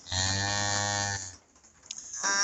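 A calf gives a long, loud moo lasting over a second, followed by a short pause and the start of another call.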